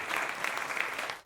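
A crowd cheers and applauds in a brief, dense burst at steady loudness, then cuts off abruptly.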